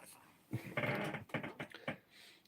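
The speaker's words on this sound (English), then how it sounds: "the dog's attacking them" A dog growls and whimpers in a short burst of rough, uneven vocal sounds with a few sharper yelps, fairly close and moderately loud after a quiet moment.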